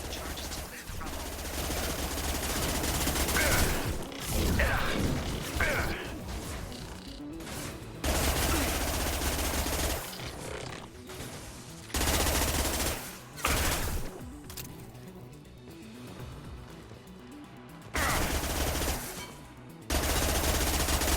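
A Tempest gun in Mass Effect 2 fires in rapid, loud bursts, each several seconds long and separated by short pauses, with game sounds between the volleys.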